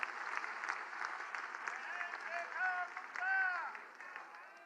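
A large crowd applauds at an outdoor political rally in Delhi, a broad sustained wash of clapping with voices and cheers rising over it, heard from a distance.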